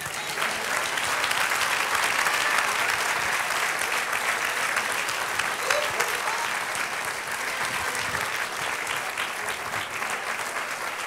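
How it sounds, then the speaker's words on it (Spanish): Steady applause from a large crowd, continuous clapping that carries on without a break for several seconds. "denle un aplauso al Señor."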